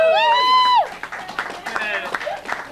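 Cafe show audience applauding, scattered hand claps and crowd noise following a sung or sustained voice, with talking over it.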